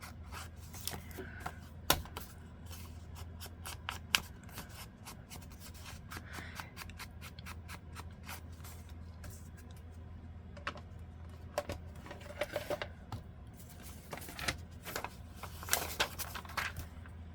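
Packing paper crinkling and rustling as it is handled, a long run of crisp, close, irregular crackles and rubs over a low steady hum.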